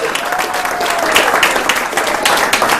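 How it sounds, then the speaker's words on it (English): An audience at a holiday networking gathering claps in steady, dense applause that stays loud and close throughout, with a few faint voices mixed in. "One more round of applause for Elizabeth Morrison."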